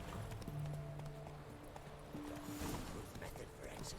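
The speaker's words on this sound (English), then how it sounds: "Oxe, achei que fosse o meu cavalo." Horse hooves clip-clop in The Witcher 3 in a soft, quick rhythm, faint and under in-game voices and ambient sound.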